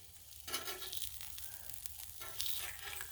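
Onions and pepperoni sizzling on a Blackstone griddle, a steady close crackle with brief flares of stirring or scraping, soft and continuous.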